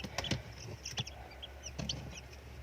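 A newly hatched Rhode Island Red chick in an incubator gives a few faint, high peeping chirps in short bursts, quiet and close, with no talking.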